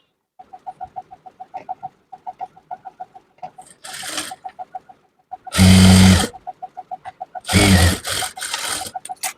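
A sewing machine stitches a quarter-inch folded handkerchief hem in rapid, evenly ticking runs close by, broken by several louder bursts of broadband noise, with no talking.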